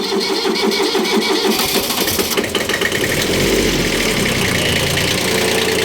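A Kubota B1400 small diesel tractor engine cranks briefly, catches and roars to life, then settles into a loud, steady clattering idle close by.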